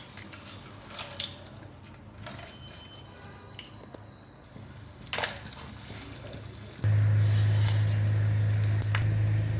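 Urad dal and chana dal hit hot oil in a wok, giving crackling, spattering clicks and scraping, followed by a louder, steady hum near the end.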